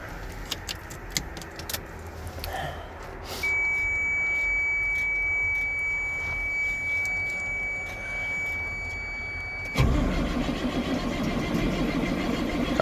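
Keys jingle and a steady electronic chime sounds before a 1999 Chevy C7500 truck engine fires up on a cold morning, turning into a loud, rough running roar that continues to the end.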